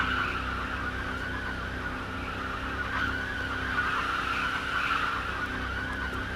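Tires of an underpowered truck skid and squeal continuously as it spins donuts in a car crash simulation game, a steady loud screech with engine drone underneath and no pauses.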